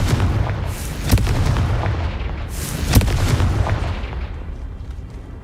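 Confringo fire spell blasts in the Hogwarts video game, two loud, booming explosive hits about two seconds apart over a continuous rumbling game soundscape.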